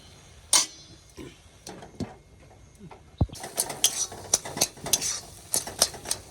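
A spoon stirs and scrapes taro leaves cooking down in a pan, sparse clinks at first, then a busy run of repeated metallic scrapes over a soft sizzle.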